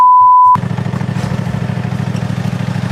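After a brief tone, a small engine starts up and runs loudly with a steady, rapid putter, like a lawn mower close by.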